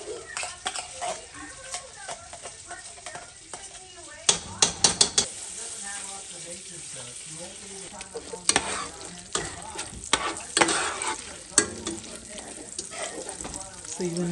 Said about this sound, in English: So you want to stir it very well so it's not too thick.